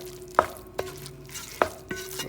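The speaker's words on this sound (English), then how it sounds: "I add the flour to it, and then I'm going to stir it up until it forms like a paste" A spoon stirs flour into melted butter in a pot, working a roux paste as the base for clam chowder: a few distinct scraping strokes at a steady, unhurried pace over a soft background hiss, with no talking.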